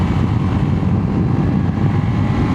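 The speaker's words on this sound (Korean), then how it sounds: "배기 소리 듣는 맛도 재밌네요." Honda Super Cub 110 motorcycle with an aftermarket exhaust, heard while riding: a steady, loud low engine drone mixed with rushing wind, continuous for the whole stretch, no talking.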